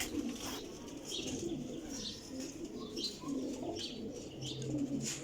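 Old-breed black pigeons coo in repeated soft, low calls over several seconds, with faint chirps and a brief flutter of wings nearby.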